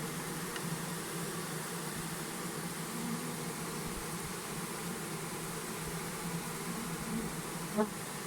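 Honeybee swarm streaming into a hive outdoors during swarming season, a steady dense buzzing drone of many insects flying close by, constant throughout with a brief louder bump near the end.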